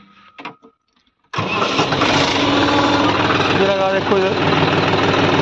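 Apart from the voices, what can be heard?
John Deere 5210 tractor engine running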